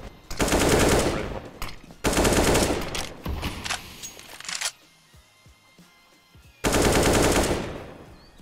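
Bursts of automatic gunfire in a first-person shooter, three long loud volleys of rapid shots separated by quieter gaps with scattered lighter clicks and footsteps.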